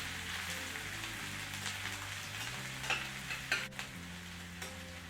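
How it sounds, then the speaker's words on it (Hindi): Chopped onions sizzling in hot oil in a pan while a spoon stirs them, a soft continuous frying hiss with a few light scraping clicks, close and fairly quiet. "हम इसमें ऐड करेंगे 1 कप चॉप्ड अनियंस। इन्हें अच्छी तरह से मिक्स कर लेंगे और थोड़ा सा कुक कर लेंगे।"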